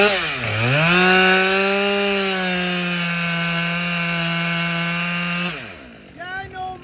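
A short-bar chainsaw cuts wood at a Paul Bunyan lumberjack event, its loud engine dipping briefly before holding a steady, high whine for several seconds, then cutting off near the end.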